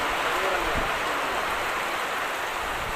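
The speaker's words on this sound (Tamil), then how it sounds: "பெங்களூரில் ஸ்டார்ட் ஆன மழை இன்னும் நிற்கவே இல்லை." Steady, loud wash of heavy rain during a motorbike trip from Bangalore toward Dharmasthala, a dense continuous hiss with no breaks and no clear engine or voices standing out.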